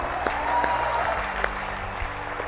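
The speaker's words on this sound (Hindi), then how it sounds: "जोरदार तालियां दोनों के लिए होनी चाहिए" An audience at a motivational talk gives loud applause for two people, a steady wash of clapping with a few sharper individual claps standing out.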